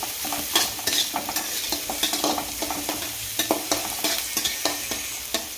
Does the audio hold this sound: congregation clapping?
no